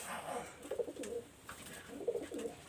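Salara breed flying pigeon cooing softly nearby, two low throaty bursts of coos separated by a short pause, faint and unaccompanied.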